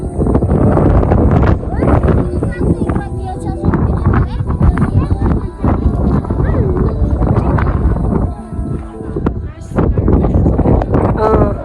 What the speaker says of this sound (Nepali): अहिले चाहिँ पुरा हावा चलिरहेछ